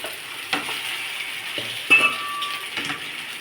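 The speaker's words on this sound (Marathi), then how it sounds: "छान मिक्स करून घेऊ." Poha being stirred in a pan with fried onion and garlic, a few soft scraping clinks of a spoon against the pan over a faint, steady sizzle.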